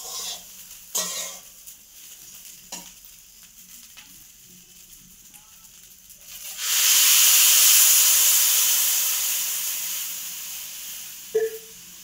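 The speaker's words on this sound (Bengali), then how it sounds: "এবার জল দিয়ে দেব।" Water hits a hot pan of fried rice, dal and vegetables, setting off a loud, sudden rush of steam and sizzling that slowly fades, after a few quiet utensil clinks.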